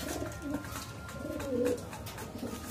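Racing pigeons returning from a derby race coo softly in a loft, a few low rolling calls repeating at a moderate distance over a steady murmur of background noise.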